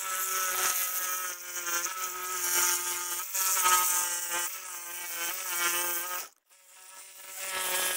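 A power saw cuts through the fairing of a 1998-2013 Harley Davidson for a 6x9 speaker cut kit, a loud steady high-pitched whine, briefly cutting out before resuming.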